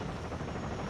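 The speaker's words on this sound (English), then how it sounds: "But here comes the Jet." A jet aircraft roars overhead in a mobile battle royale game, a loud, steady broadband engine rush that fills the whole second without pause and with no voices.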